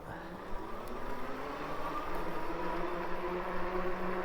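A HIKEEP MA-T electric bike motor pulls from a dead stop in second gear under pedaling, giving a faint, steady low whine that rises slightly, with soft road and wind noise around it.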